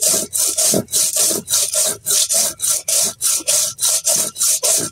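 Boiled spinach and cumin are ground on a stone slab (pata) with a rolling stone, producing loud, close, rhythmic scraping strokes of even length, roughly three per second, with no voices.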